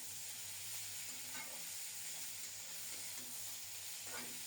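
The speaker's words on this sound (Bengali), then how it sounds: "এবার ঢেকে ঢেকে অল্প তাপে কপিটাকে খুব সুন্দর মতো ভেজে নেব" Cabbage frying in oil with nigella seeds, covered over low heat: a steady, soft sizzle runs through with faint stirring scrapes now and then, no voices.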